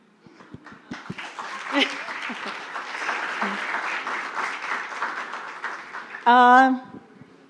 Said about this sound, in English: There's another reason why everyone should clap